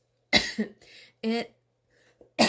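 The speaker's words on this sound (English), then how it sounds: "Oh my goodness, I'm so sorry. I keep coughing." A few harsh coughs close by, in separate bursts, the last one starting right at the end.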